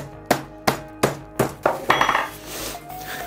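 A raw chicken breast is pounded thin with a mallet: about six sharp, evenly spaced thuds, close and loud, followed by a looser flurry of lighter knocks.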